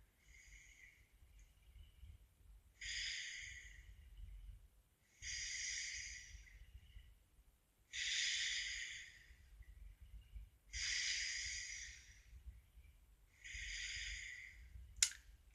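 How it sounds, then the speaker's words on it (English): Slow, steady nasal breathing with the mouth kept closed, heard close to the mic as about five long hissing breaths at a regular rhythm, each several seconds long. Low rumble sits underneath, and a brief click comes at the very end. "close your mouth like this and breathe through your nose"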